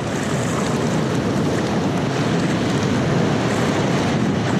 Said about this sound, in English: giant waves breaking, you know, maybe 10 feet to your right